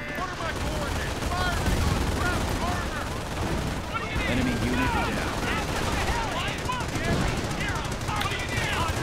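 Sniper shots and machine gun fire in the World War II strategy game Company of Heroes, a dense continuous battle din of bursts and cracks, with speech mixed in.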